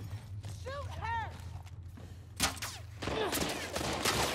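Gunfire in The Last of Us Part II, a few sharp cracks around the middle and end of a tense chase, mixed with a shouting voice and game effects.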